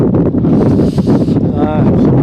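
Strong wind on a mountain near a tower site buffets the microphone in a loud, continuous roar with gusty swells, and a voice speaks under it.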